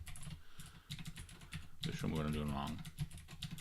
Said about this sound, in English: Besides being terrible at typing.